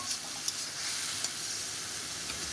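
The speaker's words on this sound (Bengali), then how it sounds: "একটু মশলাটা কষিয়ে নেব।" Spice paste sautés in a hot pan, a steady soft sizzle and hiss with a few faint clicks of a stirring utensil, fairly quiet and without voices.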